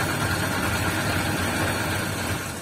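A multicab engine runs steadily at idle, a continuous close rumbling hum with a slight vibration and no talk over it.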